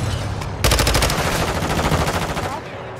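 Dense automatic gunfire in a video game firefight, a loud continuous rattling burst lasting about two seconds after a brief lull, close and overpowering.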